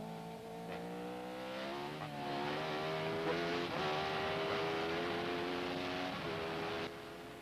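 1978 Formula 1 cars, including Lotus entries, rev their engines at the start of a race: a sustained, layered high-pitched engine whine that rises and falls over several seconds, moderately loud and heard without speech.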